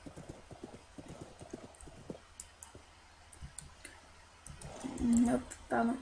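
Horse hooves clip-clop in Minecraft 1.6.2, a run of quick light clicks over quiet background, followed near the end by a couple of louder whinny-like game sounds.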